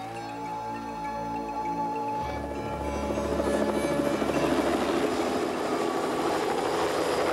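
A helicopter arriving at an ice-caving expedition camp on the Greenland ice sheet, its rotor thump and turbine whine growing louder and closer as it approaches, no talk.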